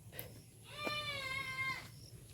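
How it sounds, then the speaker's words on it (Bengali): A goat bleats once in a long wavering call lasting about a second, fairly close and clear, during the rainy season in the Sundarbans region. "ছাগলের ডাক"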